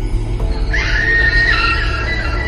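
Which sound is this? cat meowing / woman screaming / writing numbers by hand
woman screaming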